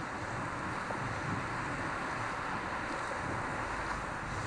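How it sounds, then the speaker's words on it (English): Ocean waves breaking onto a shore as a continuous broadband roar and wash, loud and steady with wind noise and no distinct individual crashes. "when the wave gets too steep, it breaks onto the shore"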